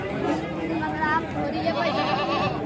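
A goat bleats at a crowded livestock market, a wavering nasal cry heard amid constant chatter and babble of buyers, with people talking close by throughout.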